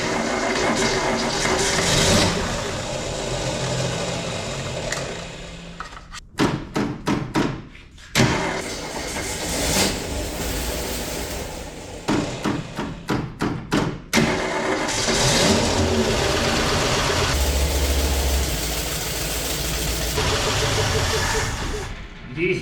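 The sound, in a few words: 1967 Ford Mustang engine starting and idling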